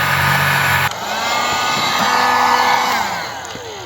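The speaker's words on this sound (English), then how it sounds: "The heat gun has two settings." A heat gun set on high blows a loud, steady, close hiss of air while warming a front car badge for emblem removal, with the tone shifting slightly as it moves.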